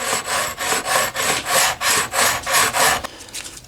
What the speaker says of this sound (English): This is 120 grit sandpaper.